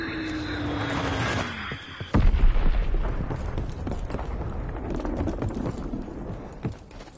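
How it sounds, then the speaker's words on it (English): A bomb bursts in the World War II shooter game Call of Duty WWII, a sudden loud boom that cuts off a descending whine, followed by sustained rumbling battle noise with scattered crackles and thuds for several seconds. "Enemy bomb incoming. Get to cover."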